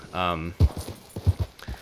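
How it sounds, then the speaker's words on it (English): Hoofbeats of a Chestnut Pinto Kentucky Saddler horse in Red Dead Redemption 2: a voiced snort or whinny first, then a run of close, uneven clip-clop thuds. "the Kentucky Saddlers are great horses"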